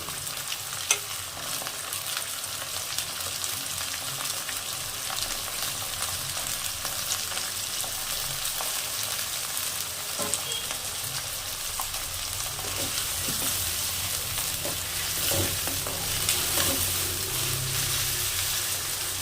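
Carrots frying in oil with a little ghee for mixed pulao made from leftover rice: a steady, moderately loud crackling sizzle with faint scraping of a spatula stirring throughout.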